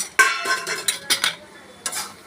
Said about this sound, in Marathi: आपण ह्याच्या आतमध्ये घालून देणार आहोत आणि त्यांना पुन्हा हलवणार आहोत सगळ्यांना